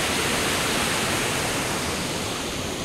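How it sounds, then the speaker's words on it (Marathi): A steady, loud rush of water flows briskly through farm fields, a constant broadband gurgle without pauses or voices. "आजूबाजूला पूर्ण शेती आहे बघा, आणि हे पाणी शेतीतून वाहतंय। खळखळत खूप आहे या पाण्याला।"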